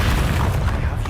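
Bombarda spell blast in the Hogwarts Legacy video game, a dense, continuous booming rumble with explosive low-end energy filling the whole moment at steady loudness.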